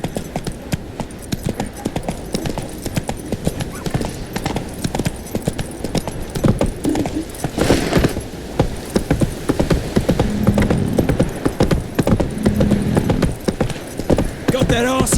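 Horse hooves in the Witcher 3 video game give a fast, steady clip-clop of galloping that runs all the way through, close and prominent, while characters talk over it.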